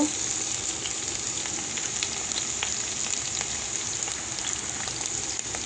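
Onions and green chillies frying in oil, giving a steady, close crackling sizzle with faint scattered pops that runs unbroken throughout.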